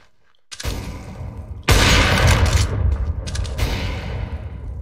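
A loud no-scope gunshot in a video game, a sharp blast followed by a sustained booming echo and rattling in-game noise, with an earlier smaller shot before it.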